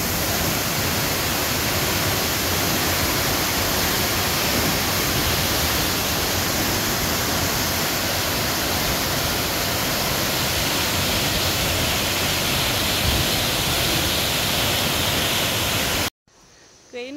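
Leke Leke waterfall in northern Bali roars as a dense, steady rush of falling water, loud and close, before cutting off abruptly near the end.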